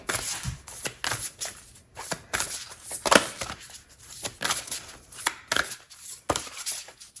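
Tarot cards being shuffled by hand for a pick-a-card reading, a continuous run of crisp riffling and slapping bursts in an irregular rhythm, close and fairly loud with no talking.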